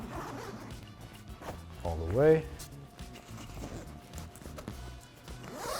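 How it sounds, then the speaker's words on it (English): Zips on a Peak Design duffel bag being pulled open to expand its capacity: a short rasping zipper pull rises midway, close to the microphone, while someone talks over it. "But if you open the expansion zips, which are here and here,"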